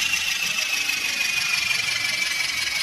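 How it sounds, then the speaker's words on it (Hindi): Tractor engine in a mobile tractor video game, revved to full throttle while climbing toward a hill; a steady, continuous droning engine tone with a high whine, loud and unbroken throughout. "तो मैं फुल रेस देके भगाता हूँ ट्रैक्टर को"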